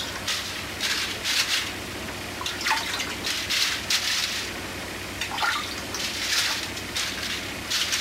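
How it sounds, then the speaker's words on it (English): Water is sprinkled by hand over a cattail mat, giving repeated short bursts of spattering droplets that come in uneven clusters, close and fairly clear. "I'm going to kind of sprinkle the mat with a bit of water"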